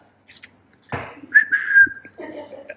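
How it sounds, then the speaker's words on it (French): A person tries to whistle, producing a breathy puff and then a short, thin, wavering whistle that fades out, with faint voice sounds around it. "j'arrive pas à siffler, attends."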